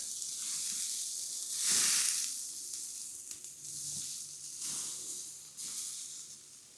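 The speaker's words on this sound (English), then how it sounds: "Listen to that sizzle." Fish sizzles over an outdoor campfire on a winter day, a steady close hiss with a brief louder flare of crackling sizzle partway through.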